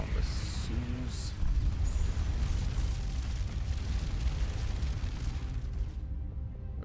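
Missiles launched and exploding in the space game Starcom Nexus, a dense, continuous rumbling roar of blasts with a sustained booming low end that fades out abruptly at the close.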